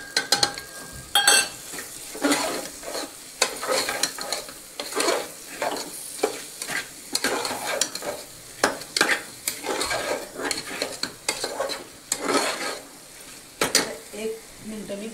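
Spices such as coriander powder, chili powder and turmeric sizzle and fry in a pan for chicken masala gravy, with a spoon repeatedly scraping and stirring in an uneven, close rhythm over the steady hiss.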